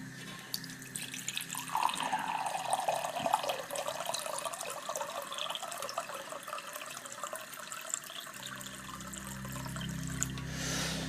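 Tap water runs steadily into a kitchen sink while a vegan rice meal with saffron cooks on the gas, a broad hiss holding for about eleven seconds at moderate level with no talk.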